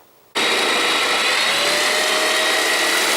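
A reciprocating saw fitted with a metal-cutting blade slices through ClosetMaid wire closet shelving, a loud steady buzzing whine that starts abruptly and runs continuously without pause.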